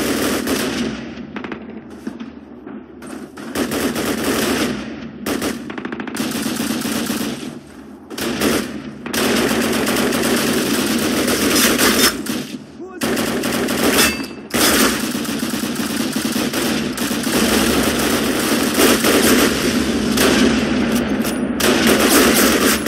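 Sustained gunfire from the WWII shooter Call of Duty: United Offensive, loud and dense throughout with rapid automatic bursts and overlapping shots, broken by a few brief lulls.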